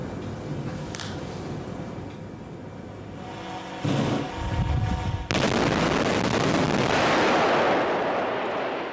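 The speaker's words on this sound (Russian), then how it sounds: "Владимир Владимирович, разрешите запустить Верхнемунское месторождение в промышленную эксплуатацию и осуществить первый промышленный взрыв." The first industrial blast at the Verkhne-Munskoye diamond deposit in Yakutia: a low, distant rumble gives way to a sudden, massive roaring explosion that keeps thundering loudly to the end.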